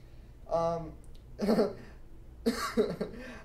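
Two close, rough coughs come about a second apart, each a short throaty burst.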